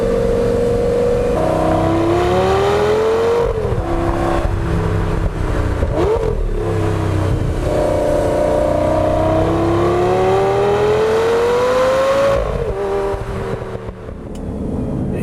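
An Audi RS3 engine revs and pulls through the gears while driving, a loud, close, continuous drone rising and falling in pitch with each shift, no voices.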